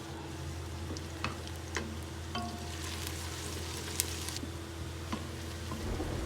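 Onions fry steadily in hot oil for a Pakistani aloo gobi curry, giving a continuous close sizzle with a few light clicks and stirring taps.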